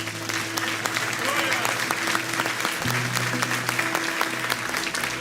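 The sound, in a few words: church congregation applauding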